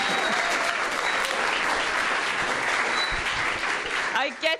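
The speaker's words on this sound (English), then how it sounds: "I want to hear a big round of applause for Kai." An audience at Garage48 Tbilisi 2017 applauds the moderator with a loud, sustained round of clapping and some cheering. Near the end the clapping thins out and a voice comes in.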